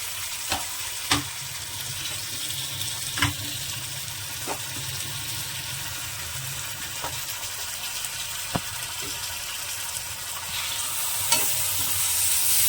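Onions and tomato fry in a pan with a constant close sizzle, broken by scattered sharp scrapes and clinks of stirring and a faint running-water wash toward the end.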